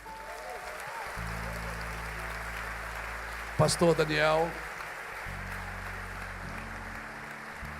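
Church congregation clapping in praise, a steady broad wash of applause beneath a voice and sustained keyboard chords, with a brief sung phrase rising over it midway.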